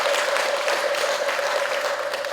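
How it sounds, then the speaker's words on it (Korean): Congratulatory applause from the congregation at a Buddhist dharma service, steady broadband clapping from many people throughout, with a faint constant tone running underneath. "우리 모두 다 함께 큰 박수로 축하와 감사의 마음을 전해주시기 바랍니다."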